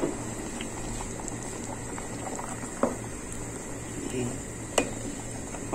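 Chicken stew with carrots, peas and wine boiling in a pot, a soft steady bubbling with a few louder pops, close and fairly quiet.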